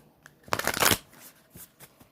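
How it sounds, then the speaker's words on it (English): A deck of oracle cards is shuffled by hand in a few quick riffling bursts, the first long and loud, followed by shorter, softer flicks, close and without talk. "I'll shuffle it a few times here."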